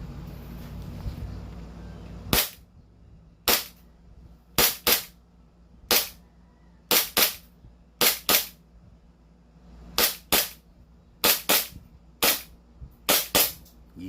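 Airsoft guns fired at a range in San Mateo, Rizal: sharp, loud single shots in an irregular sequence, some in quick pairs and triplets, with quiet gaps between.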